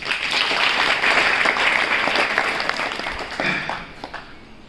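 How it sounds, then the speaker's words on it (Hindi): Students and guests at a Navodaya school foundation day event burst into loud, dense applause that holds for a few seconds, then thins out and fades to scattered claps near the end. "आप लोग अपने लिए एक जोरदार ताली बजा सकते हैं"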